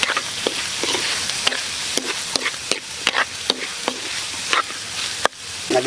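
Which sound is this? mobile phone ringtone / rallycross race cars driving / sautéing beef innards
sautéing beef innards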